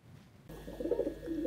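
A pet pigeon kept in a city apartment coos close by, a soft low rolling call that swells after a brief quiet start, with no talk over it.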